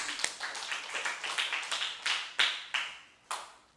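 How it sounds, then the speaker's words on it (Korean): Congregation clapping together during an evening revival service in a church, a run of rhythmic claps building to several louder, sharper bursts near the end, with no talking over them. "하나님께 영광의 박수 올리겠습니다"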